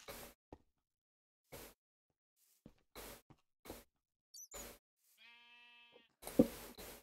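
A goat bleats once in Minecraft, a short buzzy tonal cry set among sparse knocks and footstep-like thuds in a quiet scene.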